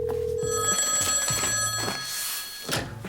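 A telephone rings in short repeated bursts, fairly close and clear, alone without any voices.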